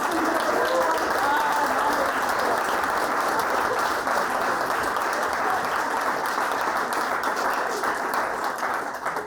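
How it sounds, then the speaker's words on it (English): A comedy-show crowd gives steady, sustained applause for several seconds, with a few voices calling out faintly over the clapping before it thins slightly at the end. "round of applause for the Red Hollywood"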